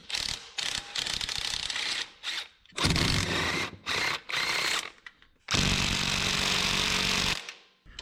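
An air ratchet or impact tool loosening transmission bell housing bolts on a truck at a junkyard, with several loud buzzing bursts of varying length and a long sustained run near the end, no talking over it.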